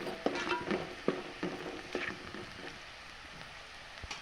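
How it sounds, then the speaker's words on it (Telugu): Turmeric being stirred into a pan of fried egg omelette curry: a scraping, clinking stir of a utensil with soft sizzling beneath, several distinct strokes early on that thin out into quieter frying. "పసుపు వేసుకొని బాగా కలుపుకోవాలి."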